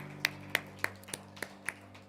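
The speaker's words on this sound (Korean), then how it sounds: "우리 하나님께 영광의 박수 올려드리겠습니다." A church congregation claps in unison during a Sunday morning Methodist service: about six sharp, evenly spaced claps over a steady sustained musical drone, with no talking.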